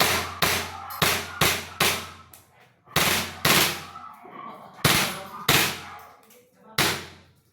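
A replica gun fires about ten sharp, close reports in irregular bursts, each with a short ringing decay and brief pauses between groups, as the selector switches between semi and full auto.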